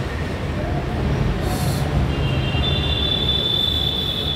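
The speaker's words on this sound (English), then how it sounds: "And it's too much traffic." Heavy street traffic rumbles steadily and fairly loud outdoors at lunchtime, a dense wash of engine noise with a faint high whine drifting in the background and no one talking.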